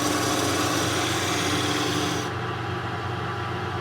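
A wood lathe spins a spindle blank while a turning tool cuts a bead, giving a continuous rasping, whirring hiss with a steady motor hum. The high scraping drops away partway through as the tool leaves the wood.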